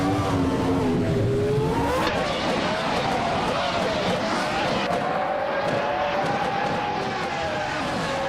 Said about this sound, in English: Uluwako is driving a Benetton B196, a car known for its agility